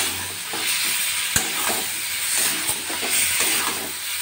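Chicken cooking in a pan with stone-ground spices is stirred steadily, a continuous sizzling hiss broken by scraping strokes and one sharp knock of the spoon.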